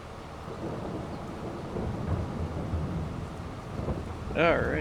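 Steady rain and low rumbling thunder roll through a Farming Simulator 22 storm, a continuous wash of noise that swells slightly midway, with a brief warbling tone near the end and no voices.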